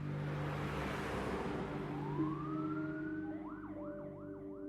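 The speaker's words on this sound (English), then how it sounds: "The ambulance arrived and paramedics took over for the doctor" An ambulance siren wails over steady road traffic and engine hum, first rising in a long sweep, then settling into fast repeating up-down cycles as it draws nearer, with no voices.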